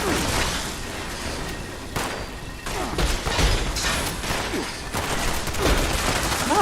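Heavy gunfire in the video game Fallout 76, a fusillade of rapid overlapping shots with whooshing and mechanical clatter, loud and unbroken throughout, with no voices in the mix.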